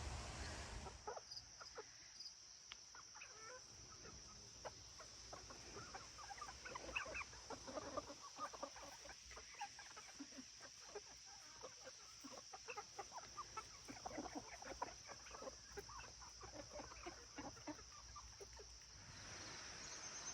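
Chickens in an outdoor chicken run about 80 feet long cluck steadily and softly, many birds scratching and calling at a moderate distance under faint background hiss.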